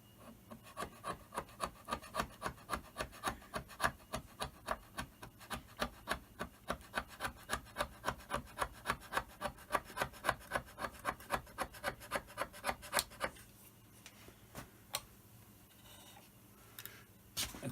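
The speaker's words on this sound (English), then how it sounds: "So I take my dovetail scraper then," A dovetail scraper rasps along the cast-iron top slide of a Myford 7x7 lathe in steady, rhythmic strokes, roughly two per second, close and clear, then stops and leaves a quieter workshop with a few faint knocks.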